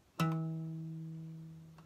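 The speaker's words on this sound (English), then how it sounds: "I'm putting my finger over one of the nodes and listen to the sound." A single plucked guitar harmonic rings out, a clear bell-like tone that slowly fades over a second and a half in a quiet room.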